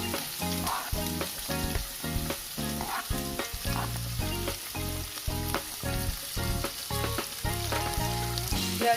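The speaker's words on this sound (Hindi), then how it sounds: "कटा हितवा प्याज को आमे तेल रे पकाई देबा।" Chopped onions fry steadily in hot oil for a dhaba-style cabbage and potato dish, giving a continuous, fairly loud sizzle under rhythmic background music.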